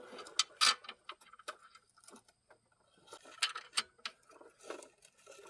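Bolts on a power steering pump of a 2007–2013 Chevy Silverado or GMC Sierra are snugged up with a ratchet, giving faint irregular metallic clicks and ticks in quick clusters, close but quiet, with no talk.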